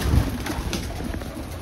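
A posta breed pigeon cooing close by, a soft low purr over steady outdoor background noise.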